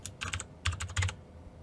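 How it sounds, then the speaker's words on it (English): Keys tap on a computer keyboard in three short bursts of quick clicks, close and crisp with brief pauses between, no talking. "And just type in delete."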